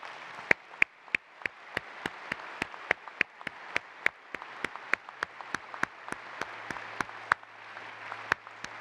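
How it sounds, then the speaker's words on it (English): A single person near the microphone clapping a slow, regular beat of sharp claps for master pilots at an aviation event, about two claps per second, over a soft crowd murmur and low hum. "Let's give them another round of applause."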